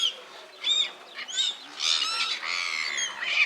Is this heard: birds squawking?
yes